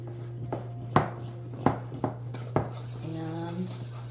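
Flour stirred into a sourdough starter, spoon or utensil knocking in a bowl with a handful of sharp taps and scrapes over a steady low hum, close and moderately loud, with faint background sounds.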